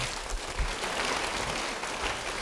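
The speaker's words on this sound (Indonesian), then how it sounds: "Beri tepuk tangan bagi dia." Audience applause in a church service, a dense, steady wash of clapping that holds at an even level for a couple of seconds with no voice over it.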